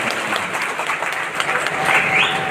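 Audience applause at a farewell gathering for a resignation from a job, a dense roar of many hands clapping continuously and swelling slightly toward the end.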